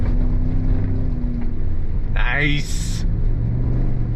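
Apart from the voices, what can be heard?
Chevy Silverado ZR2 truck driving uphill on throttle off-road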